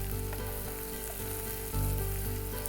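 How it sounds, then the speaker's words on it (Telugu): Onions frying in oil with ginger-garlic paste and turmeric, a loud, dense, continuous sizzle heard close, with faint stirring movement and no voices. "అల్లం వెల్లుల్లి పేస్ట్ వేసి ఒక 2 minutes మనము ఉల్లిపాయలని ఫ్రై చేసుకుందాం"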